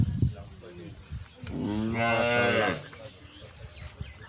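A first-calf Jersey dairy cow gives one long, loud, close moo lasting about a second and a half, with faint farmyard noise before and after.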